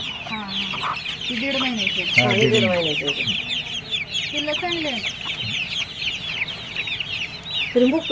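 Desi village hens cluck repeatedly in a pomegranate orchard, several birds close by with overlapping calls and a steady high chirping of other birds behind, with a few brief voices mixed in.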